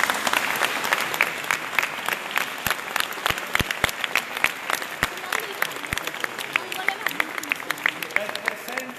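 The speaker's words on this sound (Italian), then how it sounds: "Facciamo un applauso." Sustained applause from a crowd at an outdoor San Giuseppe religious procession, honoring the bearers who carry the statue; dense steady clapping fills the full nine seconds, with a few sharper individual claps standing out.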